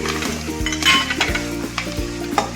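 Curry leaves, cumin powder, pepper powder and crushed ginger sizzle in hot oil for an avarekalu upma tempering, a steady close frying crackle with a few stirring scrapes of the pan, no voices.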